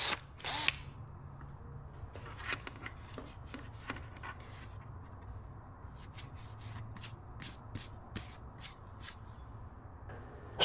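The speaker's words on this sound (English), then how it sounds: "I started out by drilling a 6mm hole using my smaller bit" Step drill bit boring a 6mm hole during accessory fitting on a 2026 Honda Goldwing motorcycle, a faint, steady drill whir with repeated short scraping bursts as the bit bites, close but quiet.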